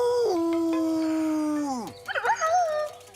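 A cartoon bird's voice imitates a wolf howl with one long, sustained, wavering tone that drops off, followed by a short burst of warbling, yelping calls.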